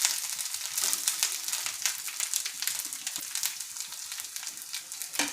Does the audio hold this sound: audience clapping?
no